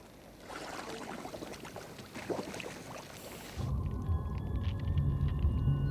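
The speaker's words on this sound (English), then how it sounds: "It's the sound of the ice crystallizing." Ice crystallizing in Arctic sea water off Greenland's frozen coast at the start of winter, heard underwater as a steady low rumble and hum with scattered faint clicks and crackles, growing denser and louder partway through.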